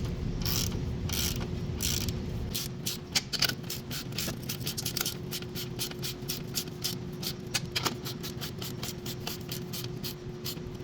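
Bolts on a front strut of a second-generation Lexus IS350/IS250 being hand-tightened, a ratchet clicking in quick, steady runs of rapid ticks with brief pauses and a few louder knocks, close over a low steady hum.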